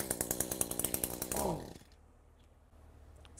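An Echo chainsaw suffering from low power and refusing to rev starts up with a rapid buzzing idle, then sputters and dies after about a second and a half, leaving near silence.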